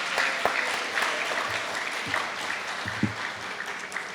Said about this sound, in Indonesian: kita tepuk tangan sekali lagi buat Ines dan Yoel